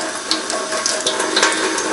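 Cold tap water running at a kitchen sink, a steady close hiss and splash with small gurgling bursts, continuous and loud with no talking.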